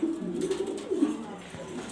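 Two male pigeons of a rare colour at a Bangladeshi loft coo in low, rolling bursts, close and fairly loud, with a couple of swelling phrases running across the stretch.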